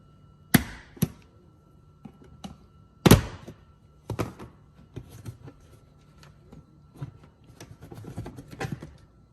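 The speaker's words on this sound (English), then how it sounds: "Then you want to pry this cover out using the large pry tool." A large pry tool works a trim cover loose inside a Tesla Model Y, producing sharp isolated thunks and snaps followed by softer plastic knocks and clicks.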